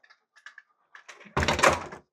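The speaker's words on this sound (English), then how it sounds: "Shut the door." A door is swung shut during dog training at home, with a few soft clicks and taps of handling leading into one loud, rattling bang that rings briefly before fading.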